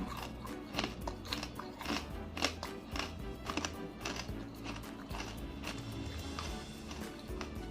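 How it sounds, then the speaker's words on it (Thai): Crunchy baked jackfruit chips are chewed close up, with steady rapid crisp crackling bites and crunches running throughout. "ได้ยินเสียงเคี้ยวความกรอบไหมครับ"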